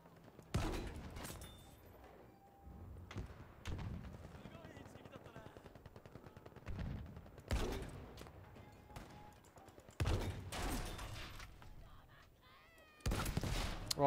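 Turret gunfire in the Battlefield V video game, with scattered loud bursts of shots and blasts spread unevenly through a busy battle soundscape while a voice talks at times.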